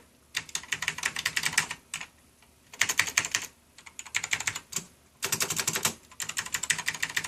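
Typing on an old mechanical keyboard of a 486 computer, loud and close: several bursts of rapid clacking keystrokes separated by short pauses, with no talking.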